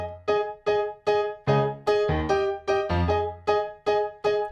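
Piano striking a steady series of ringing octave chords with the fifth in the middle, about two per second, clear and moderately loud with no talking.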